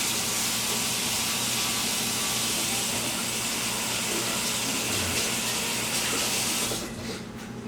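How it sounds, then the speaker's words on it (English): Tap water runs steadily and fairly loud while hands are washed at a kitchen sink during a pressure canning session, then it shuts off abruptly near the end. "Let me just go clean my hands quickly"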